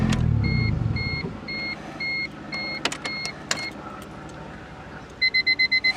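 Electronic car alarm of a 1987 Toyota Camry beeping in steady pairs of high tones, repeating several times, then a faster burst of rapid beeps at the end, with engine hum and clicks.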